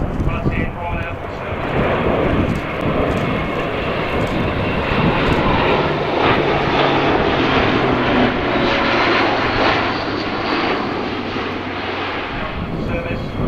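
An Airbus A400M military transport aircraft flying by at an air show, a loud, sustained roar of propeller engines with a steady drone running throughout, and a commentator's voice speaking over it.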